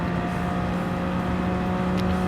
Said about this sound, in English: But the backfire on the when we shift down is very interesting sound actually.